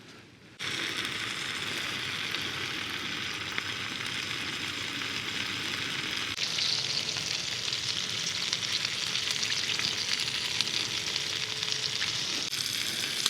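Sausages wrapped in bacon fry in a pan on a camping stove, giving a steady, close, loud sizzle and crackle that continues unbroken throughout with no talking.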